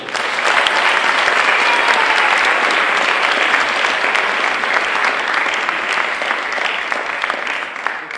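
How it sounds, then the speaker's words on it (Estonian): Loud, sustained applause from a gala premiere audience in a theatre, dense and even clapping filling the room for about eight seconds with no voices on top. "suur aitäh sulle ja üks suur aplaus!"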